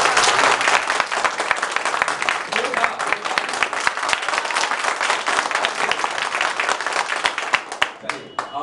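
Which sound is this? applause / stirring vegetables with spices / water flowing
applause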